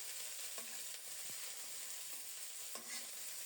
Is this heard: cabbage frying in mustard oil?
yes